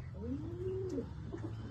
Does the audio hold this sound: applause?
no